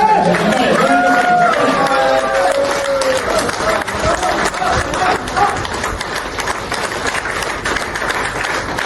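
An audience claps loudly and steadily at the grand launch of the DLS Bio Magnetic Kit, a close, continuous patter of many hands, with a voice speaking over it at the start.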